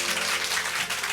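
Audience applause at a humanities talk concert for office workers, a dense, steady wash of clapping filling the whole short moment with no voices.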